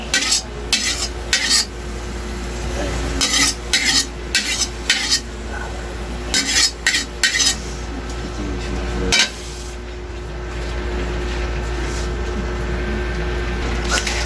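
Pork belly (liempo) is stirred with aromatics in a hot wok-style pan, a metal utensil clanking and scraping in repeated bursts, then a steady sizzling hiss takes over near the end.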